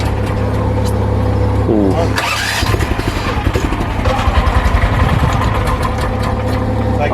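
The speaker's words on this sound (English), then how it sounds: "It sounds like it need a tune-up." A small block Chevy engine that needs a tune-up idles loudly close by, with a low steady rumble and a choppy, uneven pulse, while a person makes a brief exclamation over it.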